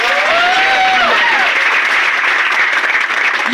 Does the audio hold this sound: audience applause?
yes